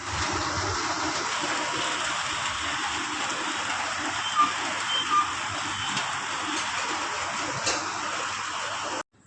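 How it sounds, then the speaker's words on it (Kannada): Steady drizzling rain that has gone on for hours during a festival morning, a continuous soft hiss of rainfall with a few louder drips, heard from nearby. "ಜಿಟಿ ಜಿಟಿ ಮಳೆ ಅಂತಾರಲ್ಲ, ಹಾಗೆ ಚಾಲೂನೇ ಐತೆ."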